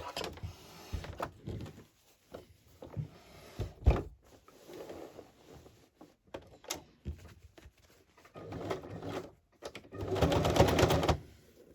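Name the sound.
sewing machine stitching pockets onto a journal cover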